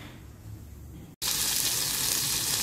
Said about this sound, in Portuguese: Colocando aqui o nosso bacon para fritar